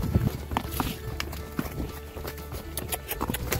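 Hooves of horses in a pasture, ridden bareback, clop in a quick, uneven rhythm at close range amid rustling and wind, with no voices.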